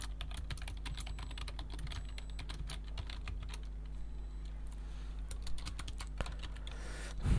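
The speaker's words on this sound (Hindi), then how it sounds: "आराम से टाइप कीजिए, कोई भी दिक्कत आपको नहीं होगी।" Hindi text being typed on a computer keyboard, a continuous rapid patter of close key clicks with steady rhythm and a few louder strokes near the end.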